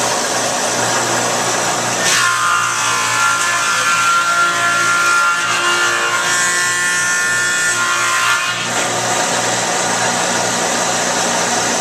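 A wooden board, a wide panel, feeds through a thickness planer: a steady loud motor drone, with the cutting roar rising for about six seconds mid-clip as the wood passes the knives, then settling back to the idle hum.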